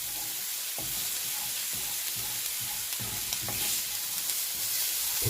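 Bacon sizzles steadily in a pan for a quick breakfast scramble, a continuous close hiss broken by occasional soft taps and scrapes of stirring.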